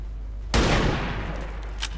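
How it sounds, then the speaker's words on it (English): A single shotgun blast fired at long range in XCOM 2 against a mutant, loud and sudden, with a rumbling tail that fades over about a second and a faint sharp report near the end. "And you fire your shotgun from far distance."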